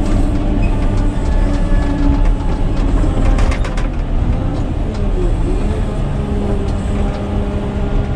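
Caterpillar 120K motor grader reversing while cutting and pulling earth with its blade, a steady loud diesel engine drone with rumbling and clanking throughout, close by and without speech.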